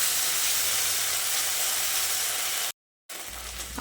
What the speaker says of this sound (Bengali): তারপর আদা ও কাঁচা লঙ্কাটা দিয়ে টমেটোর সঙ্গে আরও কিছুক্ষণ ভেজে নিতে হবে।